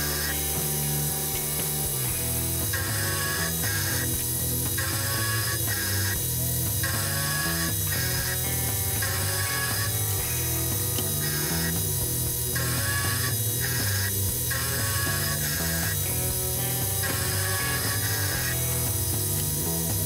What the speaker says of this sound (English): once I had made plenty of passes in the Y direction